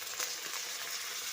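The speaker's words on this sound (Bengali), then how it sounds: "বেগুনটি ফেলে দেব।" Eggplant goes into a pan where carrot is already frying in oil, and a soft continuous sizzle hisses steadily for a moment without any talking.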